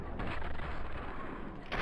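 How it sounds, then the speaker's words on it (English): A cancer ray weapon fired at a bloodfly in Fallout New Vegas: a dense, steady blast of noisy energy that fills the short stretch almost evenly, loud and close, with no clear separate shots. "I shoot the bloodfly with cancer ray."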